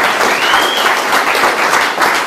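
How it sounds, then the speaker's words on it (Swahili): A church congregation at Bible Way Restoration Church in Bokoli claps together in loud, steady, continuous applause that holds throughout, with a brief thin whistle-like tone early on. "Piga hizo makofi kama unanisikiliza."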